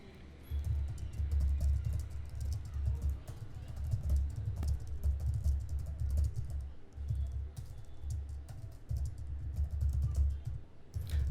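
Rapid, continuous typing on a computer keyboard during a Monkeytype speed test, a dense, steady clatter of keystrokes that runs unbroken and fairly loud from start to finish.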